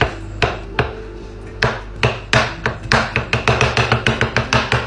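A knife chops steak directly in a metal pan, making sharp, loud strikes that begin spaced apart and then quicken into a steady, rapid rhythm.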